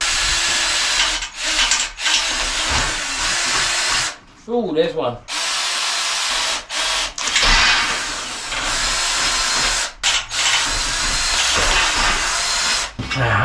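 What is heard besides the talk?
power drill drilling holes in shed panels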